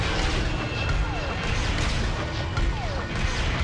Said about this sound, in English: We need an LA-AT to provide supporting fire.